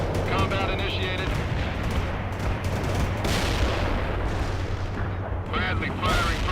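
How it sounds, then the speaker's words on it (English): A Bradley APC fires from its position in the World in Conflict video game, bursts of gunfire and cannon shots crackling over a thick battle rumble, with game voices talking intermittently. "Bradley firing from position."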